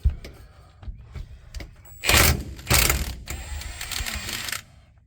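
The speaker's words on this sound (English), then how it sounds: "you gotta get your old Milwaukee out here. Get these bolts out" A Milwaukee power ratchet removes tight tail housing bolts from the transmission of a 1979 Chevy C10. It gives three loud, close bursts of whirring and clattering, separated by quieter clinks and handling noise.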